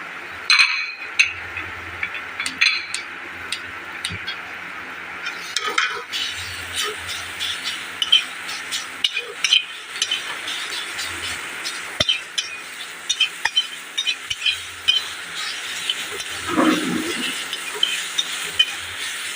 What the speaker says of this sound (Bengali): এবারে ভালো করে ছাতুটাকে ভাজবো